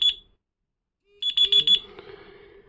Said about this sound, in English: Your find phone, which we put on earlier, that's how loud it is.